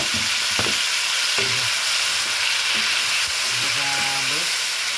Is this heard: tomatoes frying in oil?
yes